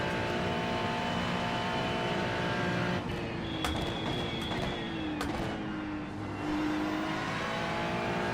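A race car engine drones steadily in an iRacing simulation of practice at Bathurst, not a Porsche, holding a sustained tone with shifts in pitch as the car changes gear, with faint brief clicks midway.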